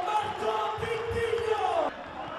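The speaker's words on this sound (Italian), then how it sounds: "Gli applausi del pubblico di Pescara." A stadium crowd at a Pescara versus Fiorentina football match applauds and roars after a goal, a broad sustained wash of noise that drops off abruptly near the end.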